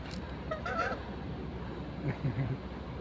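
A few soft honks from a domestic goose sound at a distance over faint background noise, with a short burst near the start and a cluster of calls later.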